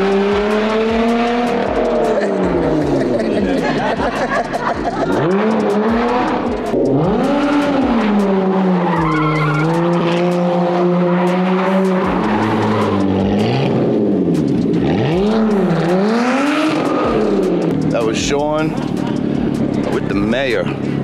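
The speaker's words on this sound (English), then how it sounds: "We drifted every single corner, did a nice little donut for him." A Lotus car drifts and spins donuts at a rally event, engine revving and wailing up and down with tire squeal, loud and close, with people talking over it.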